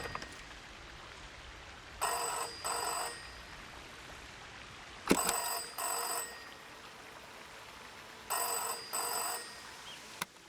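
A telephone rings in the video game Season: A Letter to the Future, sounding in repeated paired bursts with pauses between them over a soft, rain-like background hiss, with no talking.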